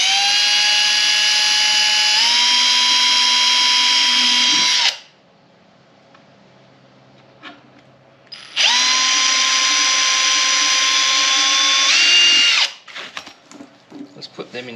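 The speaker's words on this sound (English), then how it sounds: "Get your drill." Cordless power drill whirring loudly in two bursts of about four seconds each, changing pitch slightly mid-run, during a wheel-rubbing fix on a BMW G8x M3/M4, with a quiet pause and small clicks between and after.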